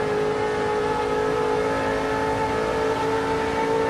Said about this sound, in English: It's the Nissan. What a glorious noise.